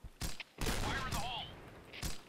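Gunfire bursts in the Point Blank online shooter game, sharp broadband shots in short clusters with a brief pause, mixed with other game sounds and near, loud.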